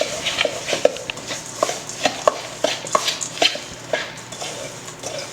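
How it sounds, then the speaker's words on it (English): Melted butter being mixed into Oreo crumbs in a bowl, a utensil scraping and clinking against the sides in quick irregular strokes, close and fairly soft, with no talk. "Let's put it all in there, just like this, and give it a big mix."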